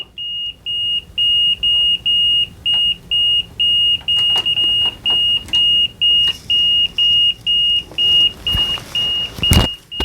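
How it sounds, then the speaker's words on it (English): Repeated pulsing beeps from a Fluke multimeter set to continuity, about a dozen regular on-off tones, close and clear, with some clicks and handling noise near the end. "I'm getting a beep now."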